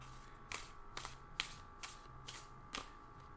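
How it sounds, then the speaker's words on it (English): Tarot cards are shuffled repeatedly, with soft riffling bursts every half second or so against a quiet background, close and fairly faint. "And I keep shuffling and no card falls."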